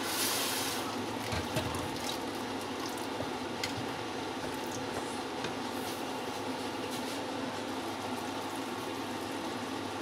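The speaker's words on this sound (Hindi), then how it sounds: "यहाँ मैं थोड़ा सा पानी डालूंगी कि हमारा मसाला जो है वो गल जाए।" Water poured into masala cooking in a pot for a Pakistani kofta biryani, a steady close hiss and bubbling that holds evenly throughout with no talking.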